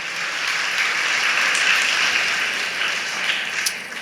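A church congregation at a shrine anniversary Mass claps together in dense, sustained applause for about four seconds, fairly loud and steady, with no voices over it.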